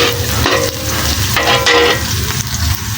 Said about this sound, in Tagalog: Tapos ang ating na namang bawang guys. Hintayin natin dyan. Medyo mag-brown sila para mabango.